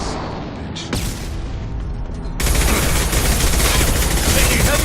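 Sustained gunfire from a firefight in the video game Mass Effect 2, dense rapid bursts that swell sharply louder partway through, loud and continuous with a faint voice beneath.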